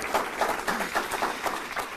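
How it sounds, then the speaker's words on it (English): A crowd applauds New York Governor Kathy Hochul at an announcement about the Frederick Douglass Airport transformation in Rochester, brief steady clapping with a voice heard over it. "let's give a big round of applause to our great Governor,"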